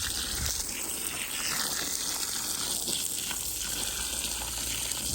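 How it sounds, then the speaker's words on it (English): Water pours onto the soil of a freshly transplanted avocado tree in a large container, a steady close gushing splash that runs continuously without talk. "Get everything soaked all the way to the bottom."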